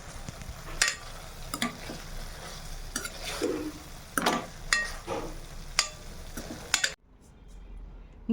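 A spoon scrapes and stirs dry moong vadi curry with coriander leaves in a pan, giving irregular clinks and scraping strokes over a soft sizzle, close up, before the sound drops away near the end.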